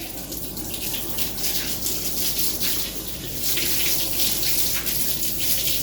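Water runs steadily from a tap during a morning courtyard wash, a continuous close gushing hiss that grows slightly stronger partway through, with no voices.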